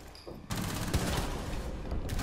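Rapid bursts of gunfire ring out in Rainbow Six Siege, a quiet opening giving way to a loud, dense fusillade that keeps going to the end.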